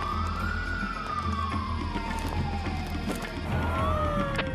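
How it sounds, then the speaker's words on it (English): Police car sirens wail continuously at moderate distance, the rising and falling tone sweeping slowly and overlapping with a second siren near the end. "All right, cut off your sirens."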